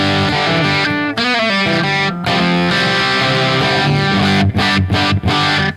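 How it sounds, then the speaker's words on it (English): Distorted electric guitar chords and single notes through a tube amp run at reduced voltage, around 2.7 watts, loud and saturated with short breaks between phrases, no voices. "Whenever you drop the voltage on an amp, the distortion changes and the feel changes."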